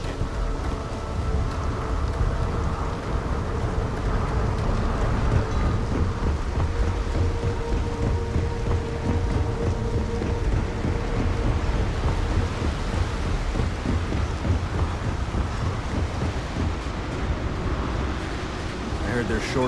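A thunderstorm with heavy rain plays in the video game Starfield, a dense steady wash of rainfall with rumbling thunder running through the whole stretch.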